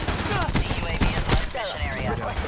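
Rapid bursts of Rampart-17 rifle fire in the shooter Black Ops 4, sharp repeated shots close by with faint voices underneath.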